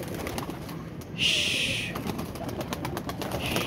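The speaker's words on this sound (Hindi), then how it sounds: "ये गए जी कबूतर दोस्तों" Pigeons taking off outdoors in poor weather, a short close burst of flapping wings followed by lighter fluttering over a steady noisy background.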